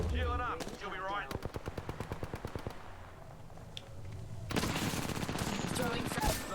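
Rapid automatic gunfire in the video game Apex Legends, a long run of evenly spaced shots followed by a dense, loud burst of overlapping fire and impacts, with a voice talking beneath it.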